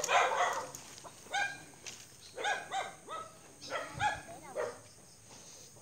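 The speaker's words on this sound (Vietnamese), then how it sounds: "Chó nữa" Several dogs bark outdoors near snake traps in rural Vietnam, sharp repeated barks arriving in bursts at moderate distance, with a brief pause between clusters and no talk over them.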